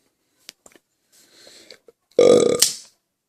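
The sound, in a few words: burp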